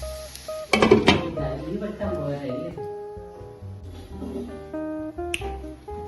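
A lid set down on a cooking pan while muringa ela thoran cooks, a sharp metallic clatter near the start, then soft kitchen clinks under a person talking.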